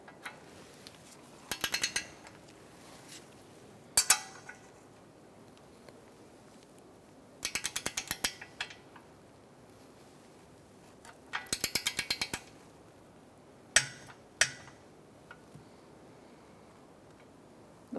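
A torque wrench ratchets on a ball joint nut of a 2013-2022 Buick Encore, giving several short, close bursts of rapid metallic clicking separated by quiet pauses.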